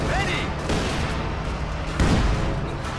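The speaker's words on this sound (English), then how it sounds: "actually seeing a lot of artillery barrage" Artillery barrage in the Company of Heroes 2 strategy game: dull, rumbling booms and distant explosion thuds under a continuous noisy battle bed, with a brief swooping tone early on.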